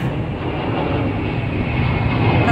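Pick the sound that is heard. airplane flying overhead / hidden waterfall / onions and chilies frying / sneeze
airplane flying overhead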